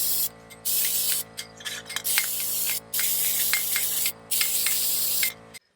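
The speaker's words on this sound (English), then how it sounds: "Apply some fluid film." Fluid Film aerosol is sprayed onto a car's rear wheel hub during a brake pad job, in four or five loud, close hissing bursts with short pauses between them.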